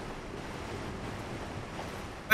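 Heavy water surges and washes in a steady, moderately loud rush of waves in Dark Souls 3, with a sudden louder swell right at the end.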